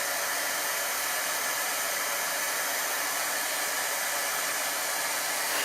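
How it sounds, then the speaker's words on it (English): An embossing heat gun blows a steady, unbroken whooshing hiss as it dries chalk paint, loud and close with no pauses or voices. "Yes, it is an embossing gun."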